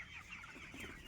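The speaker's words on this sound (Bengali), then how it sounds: "আমার মুরগিগুলা কেমন হয়েছে তুই দেখ" Chickens cluck softly at close range in a brief, continuous murmur of overlapping calls.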